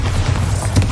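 A Bombarda spell explosion in Hogwarts Legacy gives a deep, muffled boom with a rumbling low end, a single close burst lasting about a second.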